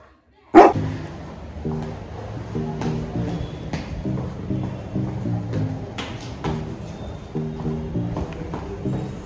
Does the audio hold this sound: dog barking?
yes